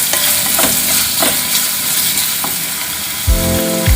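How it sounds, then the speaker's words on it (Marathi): Tomatoes and onion sautéing in a pan for a garlic spinach and peas dish, a loud, close sizzle with soft stirring strokes, then a brief clatter near the end. "त्यानंतर टाकायचं आहे टोमॅटो. त्याला पण आपल्याला मस्तपैकी परतून घ्यायचं आहे"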